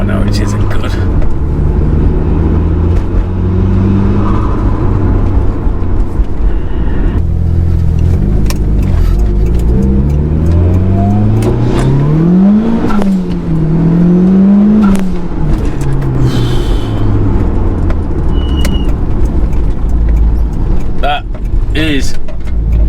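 A 518bhp Mitsubishi Evo 5 with a short-ratio gearbox accelerates hard, its engine note climbing and dropping through quick gear changes with revs held between shifts, loud and close over steady road and cabin roar.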